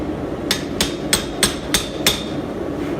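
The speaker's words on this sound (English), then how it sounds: "Get a different chisel, just go straight across again." A hammer strikes a chisel to texture metal poppy leaves in a workshop, six sharp, ringing metallic blows at an even rhythm, close and distinct over a faint background.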